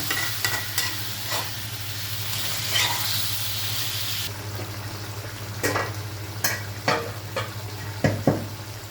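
Duck meat is fried and stirred with spices in a pan, a loud sizzle that eases partway through, followed by a series of sharp spatula scrapes and knocks against the pan, with no voices.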